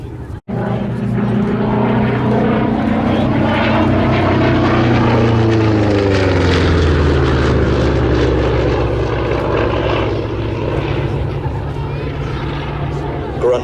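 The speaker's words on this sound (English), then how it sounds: "Grunt of that beautiful Pratt & Whitney double wasp engine." A Pratt & Whitney Double Wasp piston engine on a P-47 drones loudly and steadily, its deep roar shifting in pitch as the plane passes close by at an air show.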